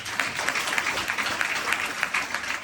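Continuous audience applause fills a hall at an Agra direct-selling business seminar, a loud, busy patter of many hands held at a steady level throughout.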